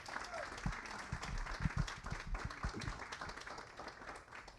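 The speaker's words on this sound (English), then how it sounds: "I hope that you will join me in sharing a little applause for every one of our staff members" Audience applause at a housing program grand opening event, a steady wash of clapping through the whole stretch with some low thumps and murmuring voices mixed in, moderately loud.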